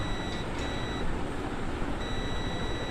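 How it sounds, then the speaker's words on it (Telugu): A multimeter in buzzer continuity mode sounds a steady electronic beep while probing a shorted capacitor on a POCO F1 phone board with a VPH line short. The tone is on, breaks off, then returns over a constant noisy hum. "మల్టీమీటర్ బజర్ మోడ్లో పెట్టుకొని చెక్ చేస్తున్నాను చూడండి"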